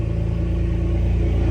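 A BMW 1 Series with an LS V8 swap, its two mufflers and resonator removed, rumbles in a steady deep idle close by, with no talk over it.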